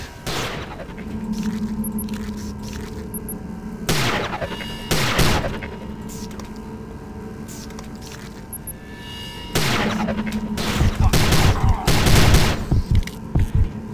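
Gunfire in Prey (2006), a shooter game: loud broadband bursts of shots come in clusters with gaps between them, under a low droning game ambience, with a heavy volley of rapid shots near the end.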